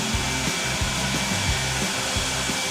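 Sandblasting of truck parts during a truck restoration, a steady loud hissing blast of air and grit with low rhythmic thumps beneath, continuous throughout with no talking.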